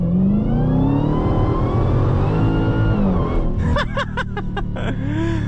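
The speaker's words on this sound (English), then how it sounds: "The whine, the supercharger whine is insane." Dodge Demon 170 accelerating hard on Mickey Thompson ET Street R rear tires, a steady loud engine roar with a rising supercharger whine heard from inside the cabin, with shifting tones near the end.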